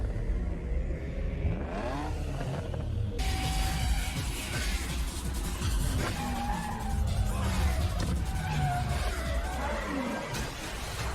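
Car tires skidding and squealing through a handbrake drift in the Tokyo Drift street racing film, long wailing screeches over engine roar, with sharp bursts and shifting pitch as the car slides.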